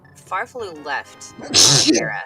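A single sharp sneeze bursts out near the end, following brief casual speech from a commentator during a live esports speedrun broadcast.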